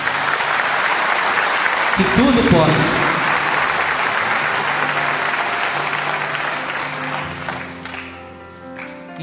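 A church congregation bursts into sustained applause during a Portuguese-language sermon by a friar. The clapping swells, then gradually fades, with a voice speaking over its start.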